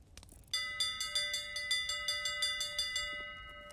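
A ship's bell in the Sea of Thieves video game rings in a steady run of about a dozen bright, evenly spaced strikes. The tones ring on and layer over each other, and no one speaks.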